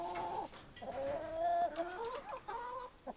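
Chickens on a homestead cluck and warble in short, repeated calls, fairly close and moderately loud, with no talking.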